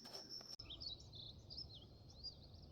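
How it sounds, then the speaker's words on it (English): Birds sing faintly in a morning garden, a few scattered high chirps and short trills drifting over a quiet hushed background after a brief click, no voices present. "Nothing but the birds this morning."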